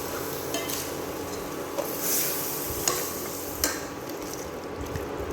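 A spoon stirs a thick tomato and onion paste in a pan, with a steady low sizzle underneath and a few sharp scrapes against the metal. No one speaks.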